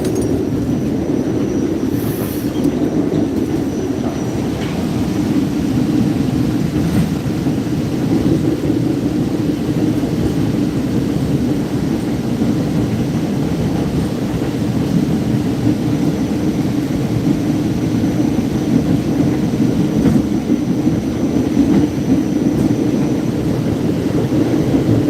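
A Staten Island Railway train runs loudly, a constant heavy rumble and rattle of wheels on track heard from inside the car, with no talking over it for the whole stretch.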